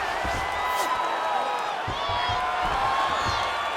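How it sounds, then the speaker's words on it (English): Arena crowd cheering and roaring in the fighting game EA Sports UFC 5 during a women's bout, a continuous loud wash of noise with scattered whoops and claps. "Crowd goes crazy as she reverses the position"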